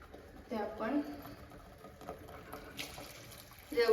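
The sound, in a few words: water being added to fish curry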